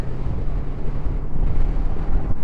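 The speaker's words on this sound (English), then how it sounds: "it's very windy here" Steady wind buffets the microphone outdoors beside a new motorcycle, a low, gusty rumble that swells and eases for the whole stretch with no voices.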